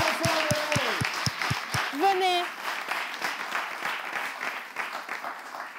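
Applause for a school group at a live event, with a spoken voice at the start and sustained clapping from the audience that carries on through the rest.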